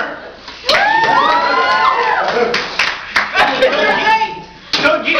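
Audience at a convention anime panel breaks into loud cheering and whooping with scattered clapping, many voices shouting together close by in a lively crowded room.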